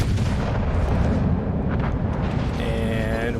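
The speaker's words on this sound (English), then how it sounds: "And I get ready to try to shoot at this Iowa here with my rear turret." Rear turret of a battleship firing in World of Warships, a loud sustained low boom rolling through the whole stretch, followed by a fainter mechanical rattle near the end.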